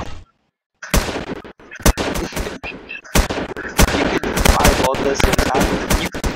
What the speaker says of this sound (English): Has guns. I mean, like bullet guns.